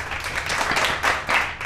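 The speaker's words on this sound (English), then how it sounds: "Round of applause." Audience applause after a speaker's joke about the end of the Iraq war, a dense wash of clapping hands rising and falling in waves for nearly two seconds with no voice over it.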